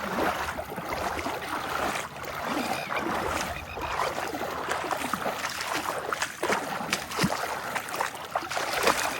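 Running river water pulling at someone's legs, a continuous rushing, gurgling flow heard close and steady throughout with no talk.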